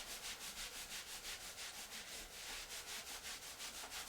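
Hands rubbing briskly over the lower back during a gentle yoga session, a steady close-up friction sound in quick rhythmic strokes, with no talking.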